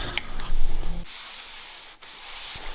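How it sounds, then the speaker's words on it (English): A sanding block is worked over a car door to remove poly primer, giving a close, continuous abrasive scrubbing that pauses briefly before resuming. "I am block sanding this door."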